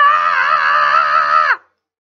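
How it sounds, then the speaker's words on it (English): A single sustained, wailing scream like the banshee of Irish folklore, loud and close, holds steady with a slight waver for about a second and a half before cutting off sharply into silence. "She is a woman who screams when someone is about to die."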